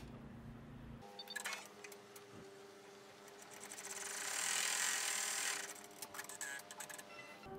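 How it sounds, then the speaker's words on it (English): Embroidery machine stitching out a placement line on stabilizer for an in-the-hoop 3D pinwheel snap tab, a steady rapid mechanical whir of needle strikes starting after a second of quiet and running on, swelling louder midway. "So the first thing I'm going to stitch out will be my placement line."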